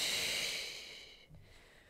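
A breathy, hissing exhale during an ab workout on a mini ball, close and soft, trailing off into quiet with a small puff of breath near the end.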